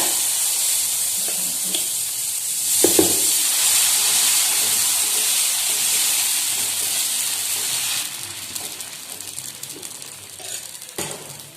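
Tomato and egg dosa batter sizzles on a hot pan, a constant close hiss with brief scraping stir sounds, easing off toward the end.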